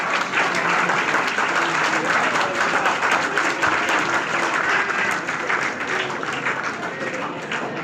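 Loud, sustained applause from a crowd of children at a one-day inspirational workshop, dense continuous clapping filling the whole stretch and easing slightly toward the end.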